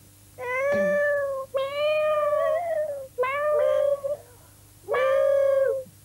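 Another round of human cat imitation on an Icelandic children's TV show: four drawn-out, close meows with short pauses between them.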